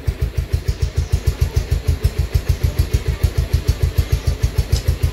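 A motorcycle engine runs close by with a fast, even, throbbing putter that holds steady throughout.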